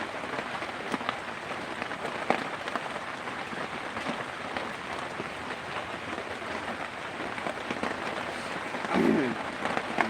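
Rain falls as a dense, even patter on a hard surface, continuous and fairly close throughout, with a brief low murmur of a voice near the end.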